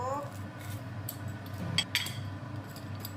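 A pizza cutter slices through a home-cooked bowl of pork-rib noodles, giving a few faint metallic clinks and scrapes against the dish over a steady low background hum.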